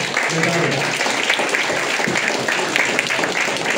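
A crowd at a founders night company event applauds to welcome the host Mr. Chad, a steady, dense wash of clapping lasting throughout with voices mixed in underneath.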